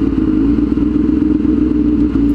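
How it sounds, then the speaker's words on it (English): A Zelita motorbike engine drones steadily and loudly up close, a continuous low mechanical rumble with slight clatter and no breaks throughout. "the power of the Zelita bike"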